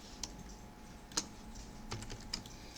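Computer keyboard keys pressed while copying in design software, a few sparse, light clicks spread across the span at low level with no talking.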